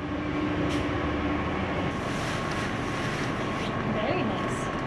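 Steady low rumble and rattle of a moving train in Northern Ireland heard from inside a carriage, continuous and fairly loud, with faint squeaks and clatter.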